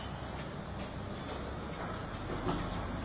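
A metro train at a Kyiv station, a steady loud rumble and rattle of rail cars with faint clanks, continuous throughout.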